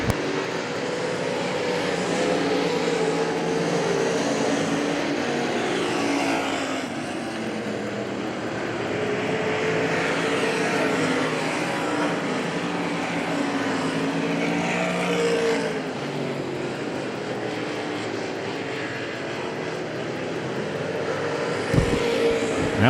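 Race cars on the dirt track at Hagerstown Speedway, a dense continuous roar of several engines that swells and fades as the field circles, loud and unbroken throughout, ending with a sharp thump.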